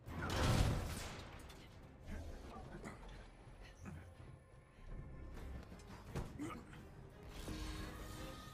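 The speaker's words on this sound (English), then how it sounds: "One super long elevator ride coming up." A long elevator ride in Marvel's Avengers, carried by a low mechanical rumble with creaks, ratcheting clanks and occasional whooshes that swell and fade, steady throughout at moderate volume.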